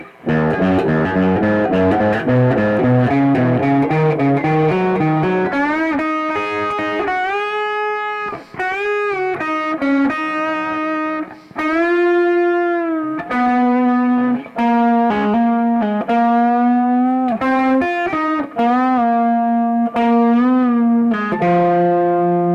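An electric guitar plays a solo passage from a song through distortion and effects, with bends and sustained notes rising out of a faster opening run, loud and alone.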